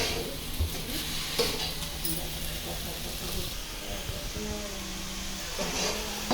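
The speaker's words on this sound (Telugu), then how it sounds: "తోటకూర వేసాక బాగా మిక్స్ చేసుకోవాలి." Amaranth leaves (thotakura) frying in a pan for vepudu are stirred, giving a continuous sizzle and hiss with scraping and clinking from stirring and steady low kitchen noise, with a voice heard faintly.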